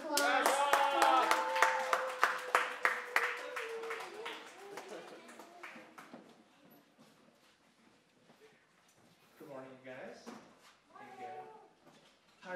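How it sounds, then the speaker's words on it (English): A youth church congregation claps for a speaker, starting with rhythmic, fairly loud hand claps mixed with cheering, then fading out within a few seconds before talk and scattered voices follow. "let's give Jacques the biggest round of applause"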